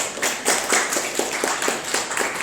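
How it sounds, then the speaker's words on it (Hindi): A small audience at a mentoring talk on sustainable development goals claps to welcome a speaker, with steady, moderately loud clapping that settles into a loose, fairly even rhythm of overlapping hand claps. "तो जोरदार तालियों से स्वागत कीजिए मैम का।"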